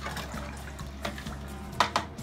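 Plain water poured into soaked kidney beans for Punjabi-style rajma, a steady close pour and splash with a couple of louder sloshes near the end.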